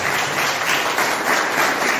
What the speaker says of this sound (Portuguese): Vamos aplaudir Jesus pela vida deles.